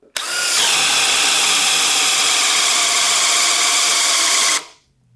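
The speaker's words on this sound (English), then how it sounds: "We're gonna let the drill bit self-feed." A loud, steady DeWalt XR cordless hammer drill whine runs continuously for about four and a half seconds, then cuts off abruptly, leaving near silence.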